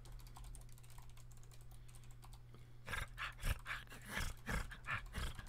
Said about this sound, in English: That's you typing.